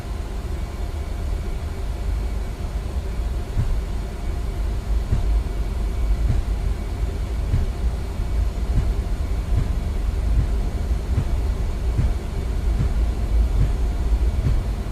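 Steady, loud roar of aircraft engines spooling at takeoff thrust in Microsoft Flight Simulator, a continuous broadband rumble with no talk, holding level throughout.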